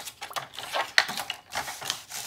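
A paper trimmer slicing a strip of scrapbooking paper: a quick series of light scraping and clicking strokes with a sharp snap in the middle, close and fairly quiet, with no voices.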